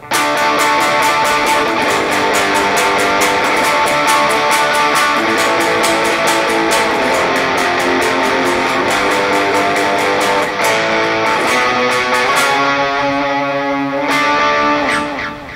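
A loud overdriven electric guitar plays a thick, gritty sustained second-guitar part of a song with rich harmonics, continuing steadily before closing on a few distinct notes.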